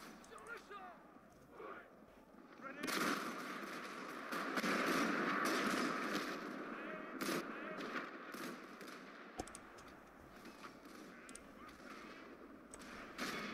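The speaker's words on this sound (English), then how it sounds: "So here we start shooting with the Foreign Legion." Foreign Legion musket volleys in a 19th-century Total War battle mod, a broad rolling crackle of many shots blending with battlefield din, moderately loud, with a few sharper reports standing out.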